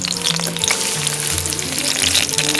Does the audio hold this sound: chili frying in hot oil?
yes